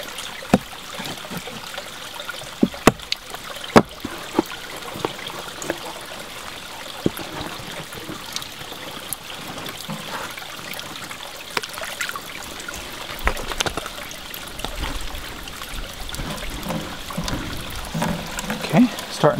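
Water trickles and splashes steadily into a ram pump's bucket intake that has a rubber lip raised to back the water up, a continuous outdoor stream-like wash with scattered sharper knocks and drips throughout.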